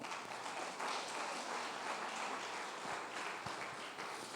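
Church congregation applause during a sermon, a dense, even wash of clapping at moderate distance holding steady for several seconds without speech.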